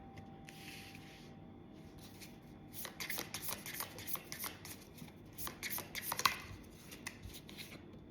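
A deck of cards being shuffled, with a soft riffle early on and then a run of crisp, quick card snaps and flicks close by, each short and sharp, over a quiet room hum.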